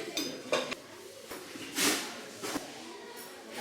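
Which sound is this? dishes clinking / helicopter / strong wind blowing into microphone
dishes clinking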